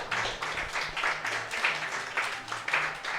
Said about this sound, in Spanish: Dale el aplauso al Señor si puedes, hermano